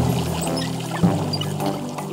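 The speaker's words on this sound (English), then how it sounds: "Just turn the handle to the left and watch the water squirt." Cartoon water runs from a bathroom tap in a steady, close gushing stream with a slight bubbling wobble, loud and unbroken, with no talking.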